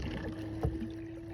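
A Bonafide PWR 129 electric motor pushing a Newport Vessels NK300 kayak across the water at a third throttle, with a steady low drone, water wash and one brief bump, heard up close.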